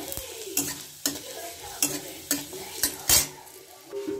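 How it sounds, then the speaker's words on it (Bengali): Garlic frying in a kadai, a soft sizzle under a regular series of sharp spatula scrapes and knocks against the pan, roughly every half second. "এবার আমি কড়াইতে দেবো এই যে রসুন কটা নিয়েছি"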